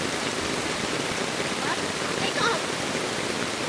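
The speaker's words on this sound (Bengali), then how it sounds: "এই ছাতা থেকে জল পড়ছে কেন?" Steady rain pattering on and dripping from an umbrella outdoors, a continuous broadband wash with a few brief splashy accents, moderately loud and close.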